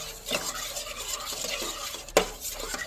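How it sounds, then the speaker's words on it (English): A spoon stirs half and half into yogurt in a bowl, soft repeated scraping and swishing strokes with a light clink of the spoon against the dish near the end, close and quiet with no talking. "just go ahead and stir it up a little bit more"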